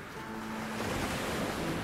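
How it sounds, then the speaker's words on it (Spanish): Strong ocean surf breaking on a shore, a continuous loud roar of crashing waves with steady broadband wash and some wind noise, no voices. "El fuerte oleaje revienta en sus pies."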